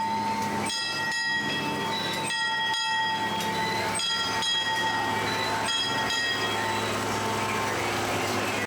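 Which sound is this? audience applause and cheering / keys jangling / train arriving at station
train arriving at station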